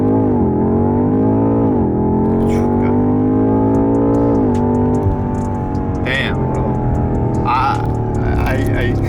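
A BMW F90 M5 600 hp sedan launches hard from launch control, its engine note climbing steeply through rising revs with a shift dip before pulling again, loud and close from inside the cabin.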